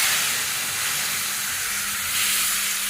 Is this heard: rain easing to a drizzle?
no